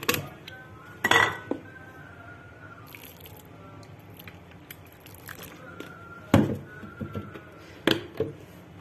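Metal spoon clinking and scraping against a bowl while minced garlic is stirred with sugar, salt and vinegar, a few sharp taps spread over quiet, wet mixing in a home kitchen.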